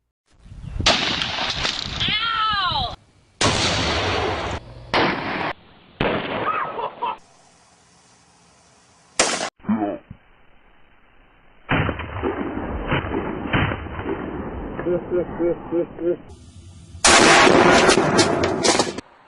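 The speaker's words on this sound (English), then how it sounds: "never shoot a firearm that may be too powerful for you" Handgun shots at a firing range come as several sharp, loud, close blasts separated by pauses and quieter stretches of indoor range noise, with no speech.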